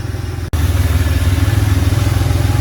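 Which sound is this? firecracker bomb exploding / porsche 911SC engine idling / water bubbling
porsche 911SC engine idling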